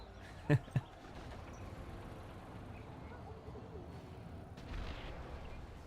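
Scud launchers fire in a 1v1 strategy video game match: two quick, sharp blasts close together near the start, then fainter battle ambience at low volume.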